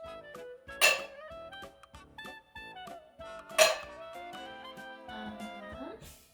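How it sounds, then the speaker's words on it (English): Ice cubes dropped into a cocktail glass give a few bright clinks and rattles, with two sharper impacts standing out over a quiet background. "now we're gonna put some ice in here"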